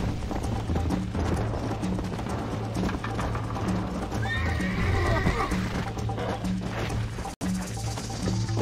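A horse gallops under its rider in the video game Red Dead Redemption, steady clip-clop hoofbeats running throughout with a whinny partway through, set against a dense, loud game soundscape.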